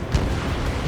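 Destroyed target blowing up during an aerial combat mission in Ace Combat 7, heard as a brief low boom at the start that gives way to a steady, dense rumble.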